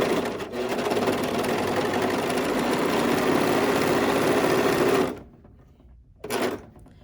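Serger sewing machine running fast through fabric, a loud continuous buzzing whir for about five seconds, then stopping, followed by one brief second burst before falling quiet.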